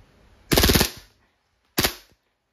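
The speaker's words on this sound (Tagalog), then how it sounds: "Firing. Full auto." A WE Glock 18C airsoft pistol fires two full-auto bursts, a loud rapid rattle of about half a second followed by a shorter clipped burst, each ending in a brief ringing tail against silence.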